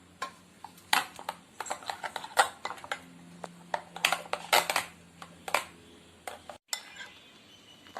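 Utensil clinks and scrapes against a bowl as omelette ingredients for a bread omelette are stirred together, irregular clicking taps close by with no talking.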